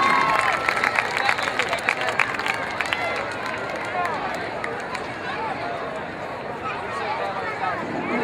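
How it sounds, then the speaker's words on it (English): A crowd cheers and applauds for newly crowned royalty at an evening event, loud and dense at first with claps and shouts, then settling into a steady hubbub of chatter. "Give them a giant round of applause"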